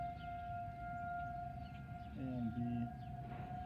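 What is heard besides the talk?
tornado siren test in Grosse Pointe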